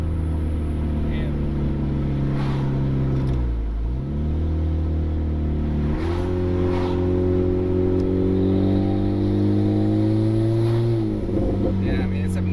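Turbocharged Honda Civic R18 engine roars loudly from inside the cabin, revving up through gears with a brief dip and rising whine, while people talk over the droning engine.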